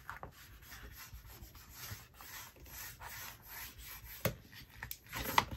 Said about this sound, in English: Bend it on over, give it a nice firm burnishing